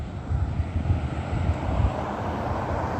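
A fixed-wing airplane passing overhead near Ontario International Airport, a loud, steady low engine roar and rumble that fades slightly toward the end, with no talk.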